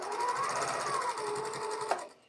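A sewing machine runs fast while stitching quilt block seams, a steady mechanical whirring hum that stops abruptly near the end, with no talk.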